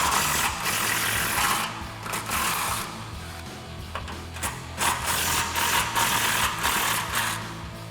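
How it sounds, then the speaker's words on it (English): An impact wrench with a 10mm socket removes exhaust hanger bolts on a 2021-2024 Ford Bronco, rattling in several short hammering bursts with brief pauses between, close and fairly loud. "So we're going to grab our impact, 10mm socket,"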